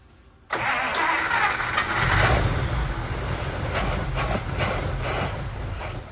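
An abandoned 1950 Pontiac's engine cranks and catches abruptly, then keeps running on fuel with a rough, loud idle and scattered clattering and rubbing noises nearby.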